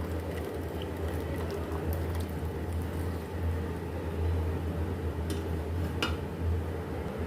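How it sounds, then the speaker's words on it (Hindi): Water with pasta at a rolling boil bubbles steadily close by, with a low continuous rumble and a few faint clinks of metal. "अब जो हमने पास्ता बॉईल करने के लिए छोड़ा वो बॉईल हो जाएगा"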